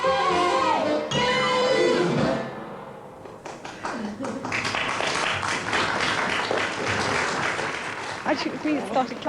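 Audience applause breaks out at the end of a cabaret song, a loud burst of clapping that thins briefly, then swells again into steady crowd clapping mixed with voices and cheers.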